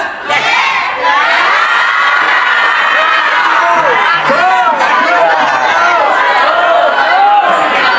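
A large crowd of children at a religious gathering shouts loudly in unison, sustained cheering and yelling filling the space throughout with a few whoops rising above.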